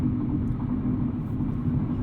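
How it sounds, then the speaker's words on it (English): Loud tire roar from a 2020 BMW M235i Gran Coupe cruising on the highway: an even, broad, low rumble filling the cabin without a break, and no voices. "And it cruises okay on the highway. Like I said, it's just those loud tires."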